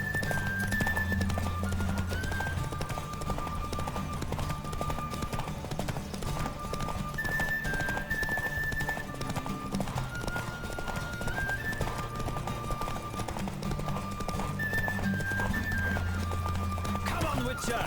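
Steady clip-clop of a horse galloping in The Witcher 3, a continuous rhythmic hoof beat under game music and ambient sound, with occasional voices talking over it.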